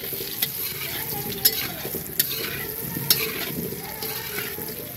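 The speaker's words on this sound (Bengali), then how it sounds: "আর এদিকে দেখো আলু ভাজা হচ্ছে।" Potatoes fry in a pan outdoors at a picnic, a continuous close sizzle with a spatula stirring through it and occasional sharp metallic scrapes against the pan.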